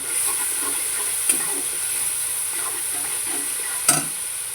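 Tilapia fish frying in oil in a pan as turmeric goes in, a steady close sizzle with a couple of sharp scrape or stir clicks.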